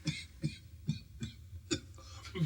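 A person coughs repeatedly, six short harsh coughs spaced about half a second apart, close and fairly quiet.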